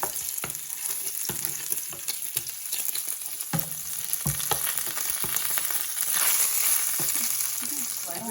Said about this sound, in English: continue stirring. Do not leave this part of the process or your bacon will burn. Keep turning. Let all of the fat render down.